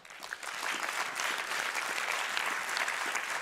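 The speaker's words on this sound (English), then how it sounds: "A warm applause for her." An audience applauds a prize winner at an award presentation, with clapping swelling quickly and then holding as a steady, dense, fairly loud crowd patter.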